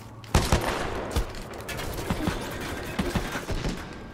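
Rapid bursts of gunfire in the shooter Titanfall 2, with sharp shots cracking in clusters from several sides over a steady background of battle noise.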